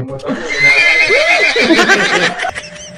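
A horse-like whinny rises and wavers over a couple of seconds, loud and close, with a voice mixed in; it may be a person imitating a neigh.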